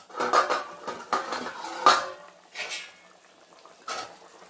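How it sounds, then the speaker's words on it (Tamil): Chicken curry being stirred in a pot, a utensil scraping and clinking against the metal in several separate strokes, close and fairly loud, with no talking. "நல்லா கிளறி விட்டு"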